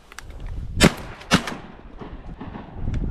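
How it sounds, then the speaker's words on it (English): Shotgun blasts at mallard ducks during a hunt on a remote mountain river, two loud close shots about half a second apart, followed by outdoor rumble. "I shot another dead drake."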